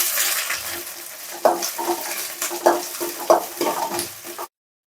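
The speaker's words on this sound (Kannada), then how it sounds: "ಸಾಸಿವೆ ಸಿಡಿತಾ ಇದೆ ಪಟ ಪಟ ಅಂತ." Mustard seeds, curry leaves and onion hitting hot oil in a tempering, a close, loud hissing sizzle with a few sharp pops and spatters, then stopping abruptly; no voices.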